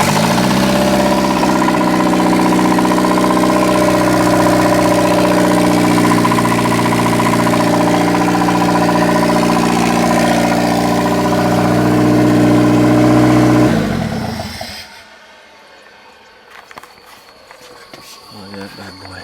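A turbocharged SR20DET engine in a Datsun 510 runs loud and steady with a busy mechanical drone for about fourteen seconds, then shuts off and falls to near silence, broken only by faint clicks and rustling.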